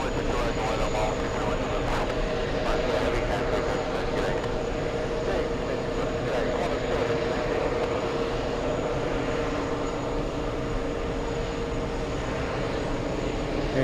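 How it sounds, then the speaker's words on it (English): A jet airliner taking off at JFK airport roars steadily and broadband at a distance for the whole stretch, with the engine noise holding constant and no speech over it. "Very pretty takeoff."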